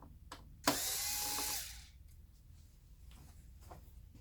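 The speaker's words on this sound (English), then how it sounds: "I removed all the screws that hold this together." A power screwdriver removing screws from an LCD TV panel, a few faint clicks and then a single whirring burst lasting about a second, followed by quiet handling noise.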